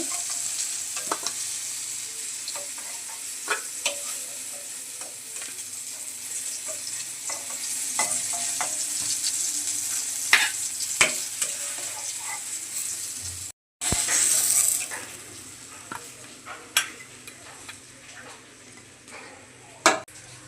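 Eggplant slices frying in hot oil make a continuous gentle sizzle, with scattered ticks and light clinks of a spatula or pan, plus one brief break in the sound and no talking.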